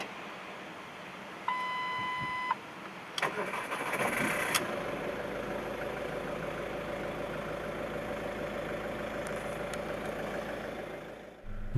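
A 2005 Ford Focus 2.0 TDCi 136 Titanium three-door with a diesel engine and six-speed manual chimes a few beeps, then cranks and fires, settling into a steady, close diesel idle that runs to the end with no talking.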